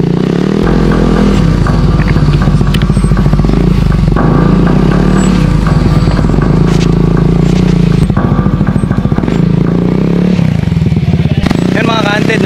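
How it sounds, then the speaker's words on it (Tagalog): Motorcycles labor up a rough trail toward an abandoned air base at the foot of Mount Aliwliw, engines loud and close, revving unevenly with clattering and scraping, the drone continuous throughout. "Medyo nahihirapan ng umakyat mga motor natin."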